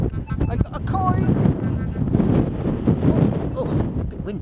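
Heavy wind buffeting a microphone while metal detecting outdoors, a continuous low rumbling roar with gusty swells and brief faint sounds on top.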